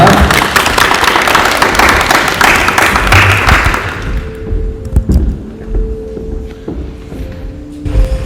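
A church congregation claps loudly to welcome a pastor. The dense applause fades out after about four seconds, leaving a few scattered claps and thumps.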